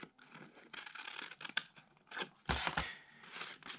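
Scissors snip into a paper sculpture piece with close, faint crisp cuts and paper rustling, a heavier crunching cut near the end.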